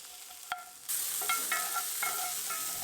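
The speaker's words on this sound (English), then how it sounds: "I cook the peppers first," Sliced green peppers sizzle softly in a pan on a stovetop, with a steady frying hiss and a few scraping stirs of a utensil against the pan.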